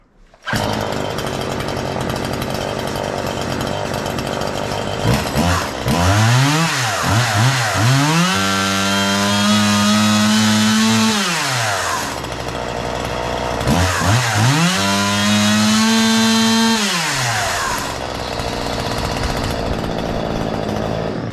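A Husqvarna 137 chainsaw with bar and chain fitted runs loud and close for the whole stretch, idling between two long revs that rise, hold at high pitch and fall back, with no talking.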